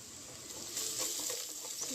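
Cut okra pieces sizzle gently in a hot pan, a soft, steady crackle over a brief two-second stretch.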